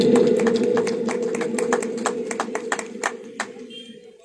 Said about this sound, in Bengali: সবাই মিলে একবার হাততালি হয়ে যাক।